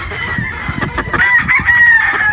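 A pullet chicken clucks and crows in a loud, raspy burst, with rustling farmyard noise around it.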